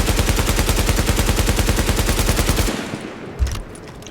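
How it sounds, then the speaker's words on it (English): An automatic weapon in The Division video game fires a long, steady, unbroken string of loud shots with no recoil control, then stops abruptly, leaving a faint clatter and a single thump. "I am not going to control the recoil at all. I'm just going to let it fire"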